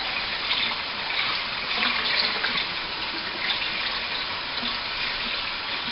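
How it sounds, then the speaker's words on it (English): Rice is rinsed by hand in water, swirled through the fingers at the bottom of a bowl, giving a steady wash of sloshing and trickling water with soft grainy churning throughout and no talk. "doing this with the rice through my fingers in the bottom as I'm mixing and stirring"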